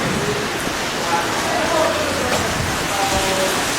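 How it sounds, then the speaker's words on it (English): Rain falling outdoors near a pickup truck, a steady broad hiss of drops under the talk of people nearby. "where did this rain come from"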